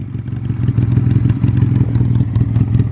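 A Rebel bobber motorcycle engine idles steadily up close, a loud, even low rumble with a fast, uneven lumpy pulse and no voices.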